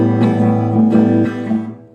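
Nylon-string guitar strummed in a Spanish style with the fretting fingers lifted fully off the strings on the upstrokes, giving a few close, loud chords that break and thin out abruptly before fading.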